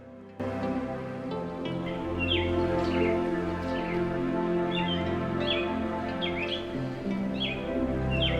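A Florida scrub jay calls repeatedly in scrub habitat, a series of short, sharp chirping notes at moderate distance over a steady low hum, with no voices.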